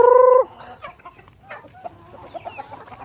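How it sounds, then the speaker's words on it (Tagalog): Hungry chickens cluck close by in a farmyard, with busy, scattered clucks following a brief high tonal call at the start. "Ayun, gutom na gutom yung mga manok natin."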